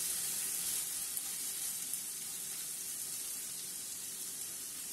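Ginger garlic paste frying in a pan for paneer butter masala, giving a steady, fairly loud broadband sizzle that holds evenly throughout with no talking.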